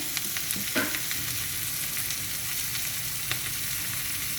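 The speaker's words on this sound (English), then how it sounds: "and the namak into this right now, and I'll stir this. So that along with the onions, ये भी थोड़ा सा भून जाता है." Onions frying with turmeric and salt in a pan for jhinge posto, a steady sizzle with occasional scrapes of a spoon stirring, close and alone.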